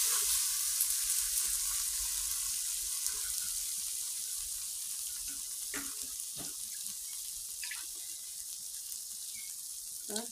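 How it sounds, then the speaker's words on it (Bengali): Red lentils and a splash of water go into a hot, sizzling pan, giving a steady close frying hiss with a few clinks and splashes of water pouring in. "তো এবারে ডালটা দিয়ে দিব, মসুরের ডাল দিয়ে দিলাম। এতে একটু জল দিব।"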